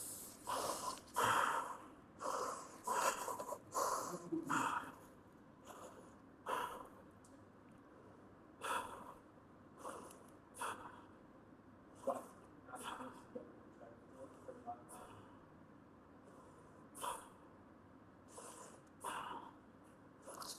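Heavy, rhythmic breathing during an intense power yoga workout, with repeated sharp exhales and gasps spread across the stretch, fairly quiet and close, with a person speaking at times.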